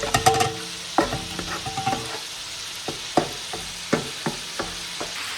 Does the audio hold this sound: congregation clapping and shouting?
no